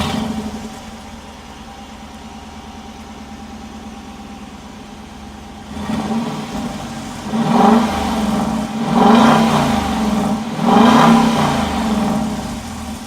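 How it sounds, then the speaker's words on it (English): A Dodge Durango RT with a 5.7-litre Hemi, mid mufflers and factory exhaust idles with a deep steady burble, then revs three times in rising, swelling surges that settle back between blips, close and loud with no talk. "Dodge RT with the mid muffler and the factory exhaust."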